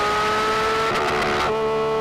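A Porsche 911 GT3 RS engine revs hard and climbs in pitch, loud and close from inside the car, with a brief shift break before the tone rises again.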